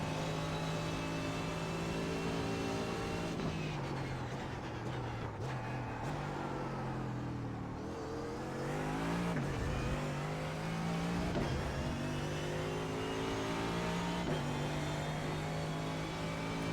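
A Mercedes AMG GT3 race car in iRacing roars continuously at close range, its engine pitch climbing and dropping through gear changes and revs, with no talking.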